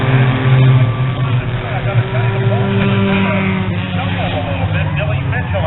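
Six-cylinder race cars roar around the track at Spencer Speedway in a heat race, a continuous mix of engine drone and passing cars, with an announcer talking over the noise throughout.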